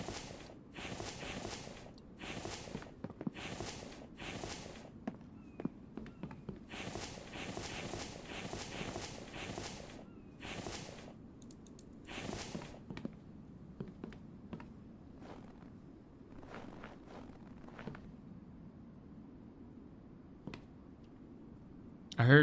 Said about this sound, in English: I heard sounds of footsteps in snow.